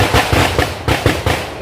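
Firecrackers burst at a village celebration honouring teachers, a rapid string of loud, close cracks and pops in quick irregular bursts.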